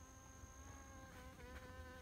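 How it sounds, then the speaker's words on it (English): A bee buzzes steadily close by on an outdoor nature hike, a continuous thin drone over faint background ambience. "there's a bee making a lot of noise"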